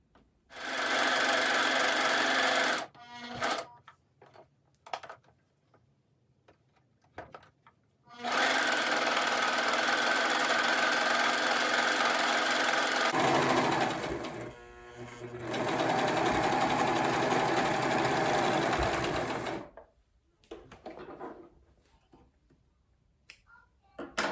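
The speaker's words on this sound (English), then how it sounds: "I'm going to turn the corner with my needles raised, raise the presser foot, and turn the fabric." A sewing machine stitches fabric for an absorbent layer, running in three long loud bursts separated by quiet pauses and a few small clicks, with no talking.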